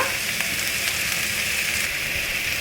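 Raw mango pieces fry in a pan for mango rice, giving a steady, soft hiss and sizzle that holds evenly throughout, close by and alone with no voices.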